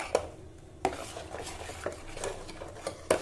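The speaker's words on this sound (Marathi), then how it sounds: "आता आपण हे छान मिक्स करून घेऊ" A spoon stirs salt and a pinch of turmeric into a mixture in a pot while cooking Malabar spinach leaf phunke and kadhi, with a slow rhythm of sharp metal clinks against the pot over a soft scraping swirl.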